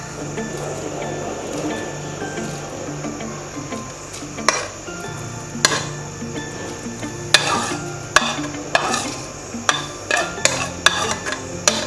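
Chunks of chicken going into a pan for chicken vegetable soup, followed by a soft sizzle and stirring, with sharp metallic scrapes and clinks of a utensil against the pan growing more frequent toward the end.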